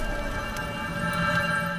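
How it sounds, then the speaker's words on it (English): A wall mark in Black Ops 7 Nuketown Zombies gives a constant high-pitched ringing drone with stacked tonal layers, steady and moderately quiet, with faint brief shimmers partway through and no voices. "the ringing sound should sound like this"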